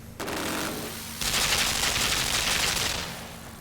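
Machine gun fire in the video game Limbo, a dense sustained burst after a short lead-in, rattling loudly for about two seconds before trailing off, with no talking.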